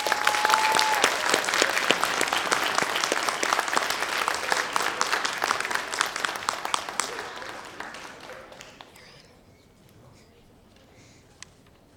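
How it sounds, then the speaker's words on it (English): Audience applause at a junior honor society induction ceremony, loud sustained clapping that thins out and fades to near silence by the end, with faint voices mixed in. "Let's give them one last round of applause."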